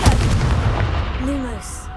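Confringo fire-blast spell cast in the Hogwarts Legacy video game, booming explosive bursts up front that roll into a sustained rumble, with whooshing magical tones rising late in the two seconds.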